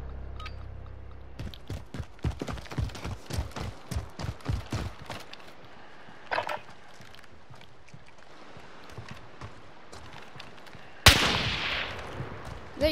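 Gunshots ring out during a video game gunfight, first a quick run of sharp, evenly spaced cracks, then a lone shot and a loud blast near the end, with quieter gaps between.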